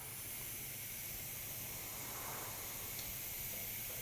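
A faint, continuous airy hiss of an airbrush spraying paint, steady and unbroken with no voices.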